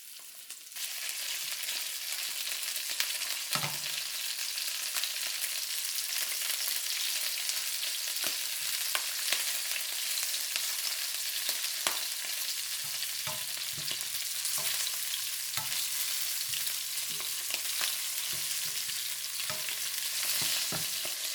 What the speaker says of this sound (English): chop up garlic, fry them up like that, and turn the heat lower. Then we're gonna put the oyster in it.